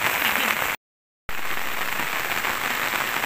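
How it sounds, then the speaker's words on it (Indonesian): Steady rain falls as a dense, loud hiss, broken by a brief silent gap before continuing unchanged. "dalam kondisi hujan seperti ini"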